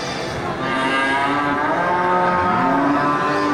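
A jumbo local beef bull at the Geulumpang Payong animal market lets out a long, drawn-out, close and loud moo that lasts several seconds, with steady market background noise behind it.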